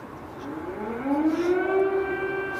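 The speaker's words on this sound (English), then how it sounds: "You might be able to hear that siren now, actually." An air raid siren in Ukraine rises steadily in pitch and holds a long, loud tone, with faint background noise underneath.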